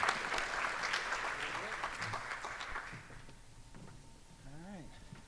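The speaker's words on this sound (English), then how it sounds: "So another round of applause for him." Applause from a courtroom or ceremony audience honoring a newly appointed judge, a broad patter of clapping that fades after about three seconds and gives way to quieter voices.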